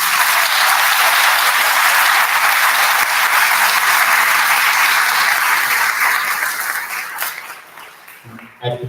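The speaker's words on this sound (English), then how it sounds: "So let's give them a nice round of applause." A concert audience at a Symphonette performance gives a full round of applause, dense and loud, then thins out and fades over the last couple of seconds.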